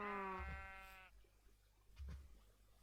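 A single wavering Minecraft sheep bleat opens loud and fades out, followed by a couple of soft thuds of in-game movement in a quiet scene.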